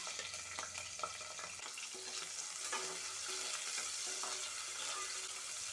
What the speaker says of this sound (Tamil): ஒரு நிமிஷம் போல் வதக்கி விட்டுறலாம்